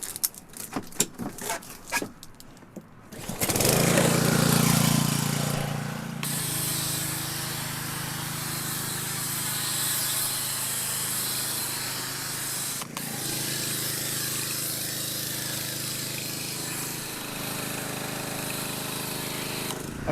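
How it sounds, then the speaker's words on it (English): A steady, broad low-pressure hiss of a foam cannon spraying a car runs continuously after a few sharp clicks, with a brief interruption partway through. "I do like how low pressure that spray is"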